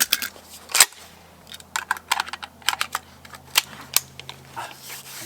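Rapid metallic clicks and clacks from an oiled hunting rifle being handled at close range, the bursts irregular and crisp over a low steady hum.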